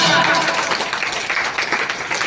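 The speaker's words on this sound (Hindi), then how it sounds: "तो ऐसे नाम के लिए जोरदार तालियां।" Applause for a student at a school results and Class 8 farewell ceremony, dense steady clapping from a gathered crowd, with some voices mixed in.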